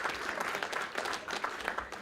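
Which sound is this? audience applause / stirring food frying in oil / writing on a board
audience applause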